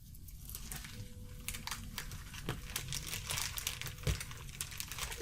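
Paper torn into strips for making paper beads gives close, irregular crinkling and ripping bursts, quiet but crisp, with no voices.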